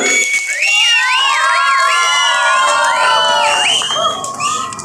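A large crowd cheers and shouts continuously at a Samajwadi Party gathering in Malegaon, with voices rising and falling in long, loud whoops that fill the space.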